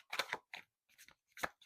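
Tarot cards being shuffled by hand, heard as four quick papery bursts of riffling and slapping separated by short pauses, close and fairly quiet, with no talking.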